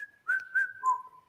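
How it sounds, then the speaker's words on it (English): A person whistling a short three-note message, soft and close, a steady tone then two gliding notes over just over a second. "And sometimes I whistle it."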